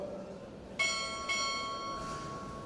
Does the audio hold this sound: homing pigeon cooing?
no